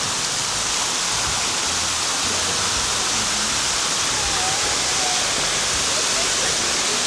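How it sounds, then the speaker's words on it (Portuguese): Water gushes and sprays steadily from many showers and fountains at a hot-spring water park with slides, a dense, close, continuous hiss that fills the whole stretch without pause. "Tem água saindo de tudo quanto é lado aqui, várias duchas."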